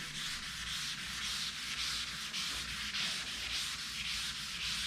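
Hand sanding the clear coat on a Camaro Z28 body, a continuous rhythmic scratchy rasp in steady back-and-forth strokes, close and alone.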